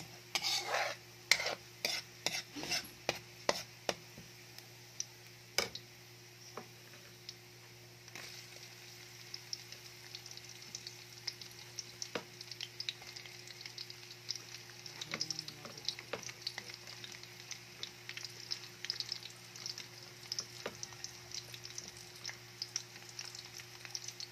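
Garlic and onion fry in a pan for chicken adobo with wings, liver and gizzard: a steady soft sizzle runs throughout, with a quick run of metal spatula taps and scrapes at the start and occasional stirring clinks after.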